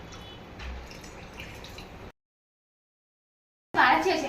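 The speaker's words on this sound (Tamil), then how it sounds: "இப்ப தேவையான அளவு தண்ணி சேர்த்துக்கலாம்." Water poured into a cooking pot of pressure-cooked mutton trotters for a Tamil paya curry, a steady splashing pour for about two seconds, a pause of silence, then a louder burst of pouring.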